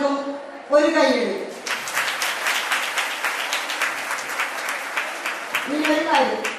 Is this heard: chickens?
no